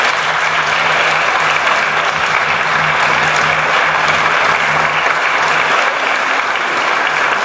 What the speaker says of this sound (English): Let us say thank you to them with a round of applause.